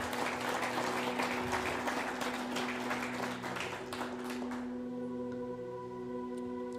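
A congregation in a Spanish-language church service claps in a steady, crowded patter for several seconds. It then fades, leaving sustained keyboard or organ tones humming alone.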